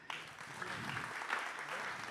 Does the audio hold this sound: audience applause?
yes